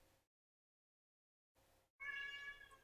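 A pet cat lets out a single drawn-out meow, close and clear, after a moment of near silence and a soft earlier noise.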